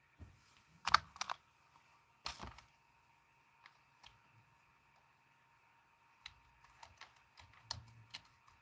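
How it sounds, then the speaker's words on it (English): Typing on a computer keyboard: scattered bursts of quick clicky keystrokes with pauses between, close and fairly quiet in an otherwise still room. "If I can get the keyboard to work."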